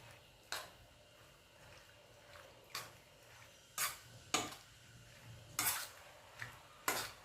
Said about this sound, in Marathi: एक वाटी दही घेतलेलं आहे हे यामध्ये घालायचं हे सगळं मी मिक्स करून घेते